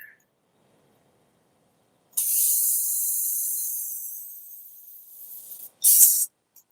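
A spray paint can hisses in a long, steady burst that slowly fades, then gives one short sharp spray after a pause, close and loud against near silence.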